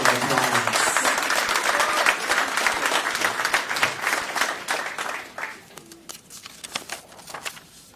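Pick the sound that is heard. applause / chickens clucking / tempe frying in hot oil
applause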